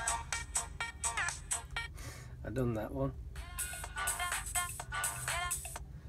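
A homemade phone ringtone cut from a piece of audio plays as a short run of bright melodic tones with a brief lower passage in the middle, while someone talks over and around it.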